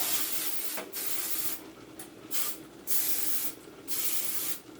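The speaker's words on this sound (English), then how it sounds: "we're going to spray it with a generous amount of the butter flavor cooking spray" Butter flavor cooking spray hisses from an aerosol can into a baking dish for a corn casserole, in four or five short bursts separated by brief pauses, close and fairly quiet, with no talking.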